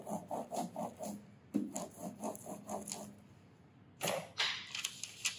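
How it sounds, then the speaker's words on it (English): A roller pressing newsprint down onto an inked solar etching plate to lift off excess ink gives repeated soft rolling and rubbing passes in a steady rhythm, close and fairly quiet, with a brighter scraping burst near the end. "I'm going to put the newsprint on top, but this time I'm going to roll to get the excess ink off"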